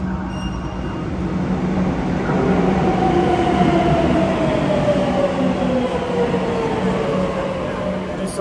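A Madrid metro train rumbles steadily along the track, a continuous loud roar with a faint rising whine from the wheels and motor throughout.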